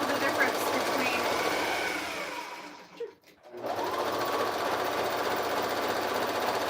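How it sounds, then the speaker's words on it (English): A sewing machine stitches fabric in a close, steady whirring run, briefly pausing midway before resuming, with voices faintly present alongside. "I'm going to sew this to the end"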